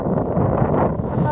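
Steady wind buffets the microphone on a countryside walking path near Chester on a warm summer day, a continuous low rumbling roar filling the whole moment with no breaks.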